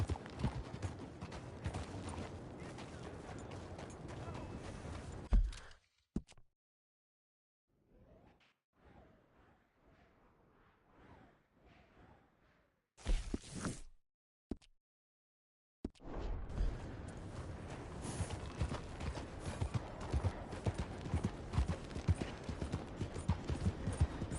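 Horse hooves in Red Dead Redemption 2 clip-clop in a steady rhythm, loud and near, fading out into near silence midway before the galloping clatter returns and continues.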